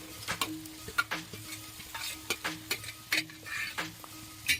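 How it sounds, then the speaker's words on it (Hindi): Marinated soybean masala fries in a pan for a spicy soybean curry, with a steady sizzle broken by repeated scraping strokes of a spoon as it is stirred, close and fairly loud, with no voices. "अब सोयाबीन्स का जो ये मसाला है उसको अच्छे से पकाएंगे।"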